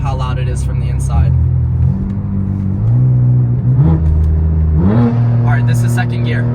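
A straight-piped BMW M3 pulls hard, then downshifts toward second gear, heard loud from inside the cabin as a deep droning exhaust with rising and falling pitch steps at each shift.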